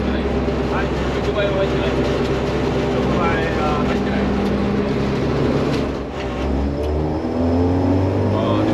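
A Spoon-tuned Honda Civic EG6 pulls hard along a street, its engine note droning loud and steady from inside the cabin, briefly dipping before rising again, with someone talking over it.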